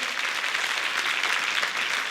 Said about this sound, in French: bravo André Bourvil, le grand gagnant de la Star Academy, qu'on peut applaudir, s'il vous plaît, merci